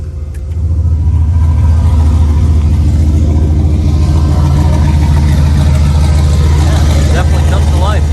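A turbocharged LS-swapped Ford Crown Victoria with a TH400 transmission roars with its exhaust cutout open, a loud, steady, deep engine rumble that builds and revs up near the end.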